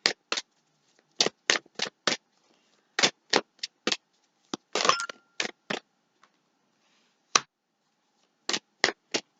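Tarot cards are shuffled in quick separate flicks and snaps, short crisp bursts with brief pauses between them, close and fairly quiet.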